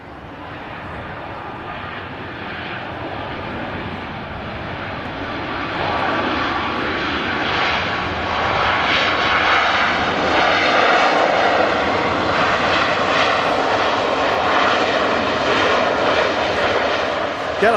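A Turkish Airlines Boeing 737 MAX jet arriving from Istanbul, its broad engine roar building steadily and holding loud and close, with a person talking over it.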